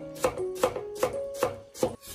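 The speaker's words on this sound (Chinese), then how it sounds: "然后把它切成末就可以了" A knife mincing carrot on a cutting board, five distinct, evenly spaced chops about every 0.4 seconds, close and crisp, with soft scraping between strikes.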